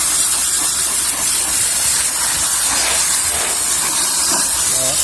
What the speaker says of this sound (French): Ensuite on vient remplir d'eau le sac.